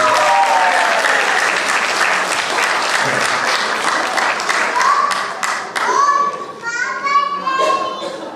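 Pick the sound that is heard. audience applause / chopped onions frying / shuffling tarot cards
audience applause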